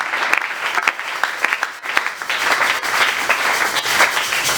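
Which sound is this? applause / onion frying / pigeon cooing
applause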